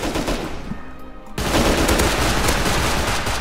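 SMG gunfire in the video game Rust: dense, loud automatic bursts that thicken into a sustained, harsh roar of rapid shots partway through, with no talking.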